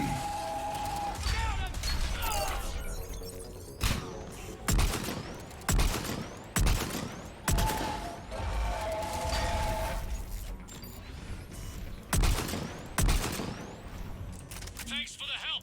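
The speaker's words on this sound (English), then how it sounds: "I'm trying to use this shotgun to snipe again." Several spaced, punchy shotgun blasts from the video game Mass Effect 3, loud and close, mixed with in-game effects and a voice talking between shots.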